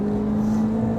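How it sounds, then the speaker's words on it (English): A naturally aspirated 2006 MINI Cooper S JCW GP engine holds a steady, high-revving tone with a constant whine, heard from inside or close by, without talking. "a normally aspirated engine that revved a lot"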